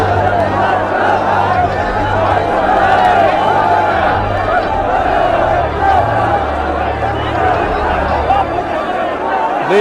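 A large, restless crowd of young people waving tricolour flags gathers at a memorial for a fallen Bihar Regiment soldier, producing a loud, steady roar of voices and shouting with overlapping chatter throughout.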